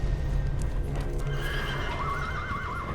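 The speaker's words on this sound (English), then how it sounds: "The horses barreled out" Several horses charge out across an open field, hooves clip-clopping in a steady, loud rumble while neighs and whinnies ring out over the galloping.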